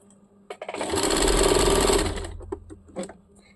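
A sewing machine runs a short burst of stitching on fabric for a churidar, a loud rapid whirring hum that ramps up, holds about a second and a half, then stops, followed by a few light clicks.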